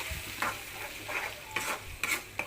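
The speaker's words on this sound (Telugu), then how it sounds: "ఇవి కూడా మంచిగా ఫ్రై అవ్వాలి" Tomato paste for an egg curry frying in a pan, a faint continuous sizzle with several soft spatula scrapes and stirring strokes at irregular intervals, close but quiet, without speech.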